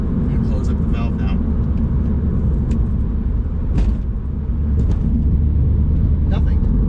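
A Mini with a JCW Pro Tuning valved exhaust cruises in sixth gear on a highway, a steady low cabin drone and rumble, with brief voice sounds over it as the valve is shut.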